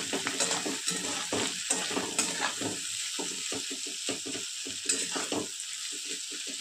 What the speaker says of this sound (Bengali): সবজিগুলো ভাজা হয়ে গিয়েছে, এবার কাজুগুলো দিয়ে দেবো